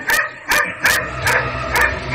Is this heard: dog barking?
yes